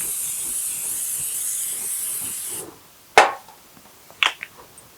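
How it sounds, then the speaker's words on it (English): A long steady hiss of cooking spray into a baking dish for a few seconds, then stops, followed by a couple of sharp clanks and light knocks. "I'm going to spray so it doesn't stick"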